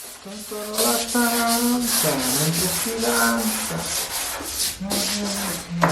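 Wood is sanded in long continuous strokes after veneering a furniture panel in walnut, the rubbing giving off squeaky, almost musical whines that rise and fall in pitch.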